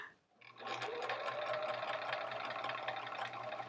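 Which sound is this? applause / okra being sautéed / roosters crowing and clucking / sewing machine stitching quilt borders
sewing machine stitching quilt borders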